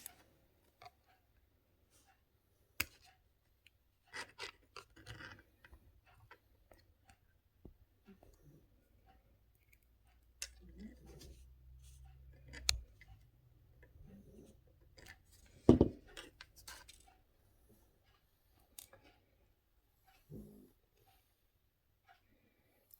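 Wire being cut for a handmade pendant, heard as a few sharp isolated clicks and snips scattered among faint handling and rubbing noises in a quiet room, with no talking.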